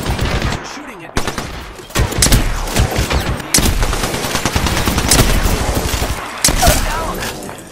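Rapid bursts of gunfire ring out in the battle royale video game Apex Legends, loud and close with sharp repeated shots and brief pauses, mixed with game effects and a voice calling out.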